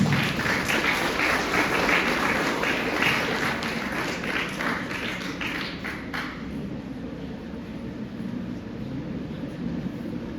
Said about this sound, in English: Let's welcome her with a good round of applause.